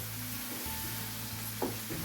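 Spices for tuna and mackerel fish keema roast in a pan with oil, giving a steady close sizzle with a brief stirring scrape near the end.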